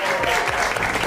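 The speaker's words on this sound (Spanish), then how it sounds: "quiero darle un fuerte aplauso." An audience applauds, a dense, continuous wash of clapping that fills the brief moment at a fairly loud level.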